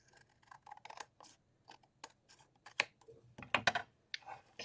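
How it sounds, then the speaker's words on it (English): Scissors snipping through a paper envelope at a craft table, a series of short, sharp, irregular cuts and clicks, close and fairly quiet. "let's cut this one off just a little bit more."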